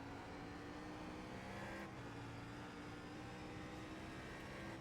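Race car engine in iRacing at Summit Point, a steady loud engine drone holding through a gear change with a brief dip midway.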